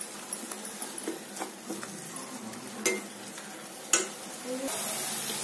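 Masala sautéing in a pan for a soya chunk kurma, a soft sizzle with light scraping stirs and a couple of sharper utensil knocks, fairly quiet and close.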